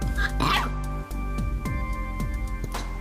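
A puppy growls at its own hiccups, giving a string of short, close yips and low grumbles in an uneven rhythm, with brief whimpering noises and a few sharp hiccup-like jolts. Soft talk is heard in the background.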